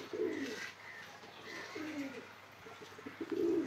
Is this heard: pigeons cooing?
yes